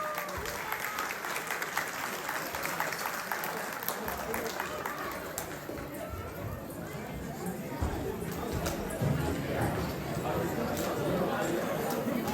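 Audience applause fills a Tamil harvest festival (Thai Pongal) gathering held by a Tamil community association, sustained clapping from a crowd with chatter and an amplified voice mixed in throughout.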